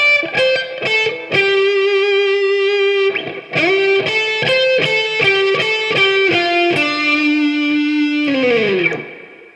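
Solo distorted electric guitar runs through a longer pentatonic lick of fast picked notes and a few held tones, finishing on a sustained note that bends and decays.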